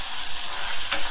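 Thinly sliced ginger sizzles steadily in hot oil in a pan while making upma, with soft stirring scrapes close by.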